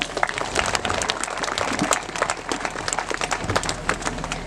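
Loud, dense applause from a church audience welcoming guests at a first Mass celebration, continuous clapping throughout with crowd noise underneath.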